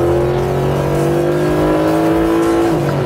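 A Mercedes SLS AMG with a high-horsepower V8 revving hard under full-throttle acceleration, a loud, steady engine tone that climbs in pitch and dips briefly near the end, with no speech.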